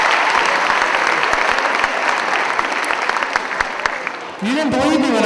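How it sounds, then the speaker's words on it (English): Audience at a high school winter concert claps for the performers, a loud, full round of applause that fades slightly before a voice begins speaking over it near the end. "Can we have one more round of applause"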